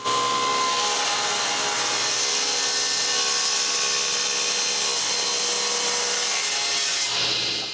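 A power saw whines loudly and continuously through wood, trimming excess from wooden panels, a bright, rasping cut that holds steady before easing off at the end.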